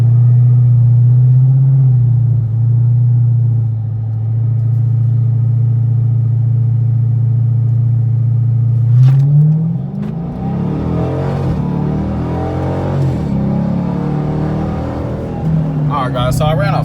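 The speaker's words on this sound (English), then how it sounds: "So we're just gonna go ahead and hit a 0 to 60 here for y'all real quick." A car with a Diablo inTune i3 tune launching on a 0 to 60 run: a steady low engine drone, then a sudden rising, loud revving acceleration that climbs through the gears.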